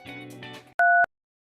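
A single phone tone sounds once, a short steady electronic beep following a brief stretch of music, then silence.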